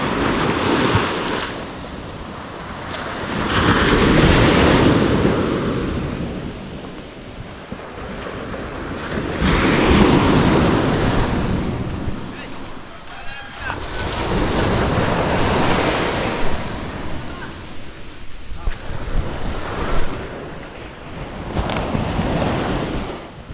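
Ocean waves surge and wash onto the shore near a beached fishing boat, loud rolling swells rising and falling every few seconds, mixed with strong wind buffeting the microphone.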